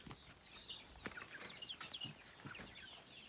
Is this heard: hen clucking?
yes